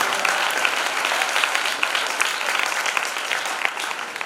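Audience at a church conference clapping steadily and fairly loudly, a dense even patter of many hands sustained throughout without speech over it.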